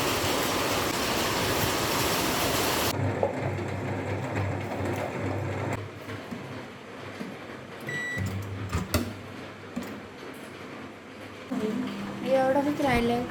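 Heavy rain pours down in a loud, dense roar for the first few seconds, then drops to a softer, uneven wash with muffled voices and scattered knocks.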